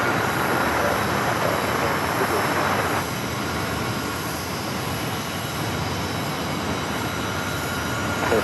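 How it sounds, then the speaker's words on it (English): An Airbus A321 jet approaches with a broad, steady roar of engine noise at an airport, loud and continuous throughout. "A321 heading toward us here."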